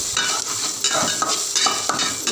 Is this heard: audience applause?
no